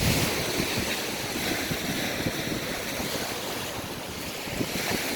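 Waves breaking and washing onto the beach near Point Pelee, Ontario, a continuous rushing surf with wind buffeting the microphone throughout.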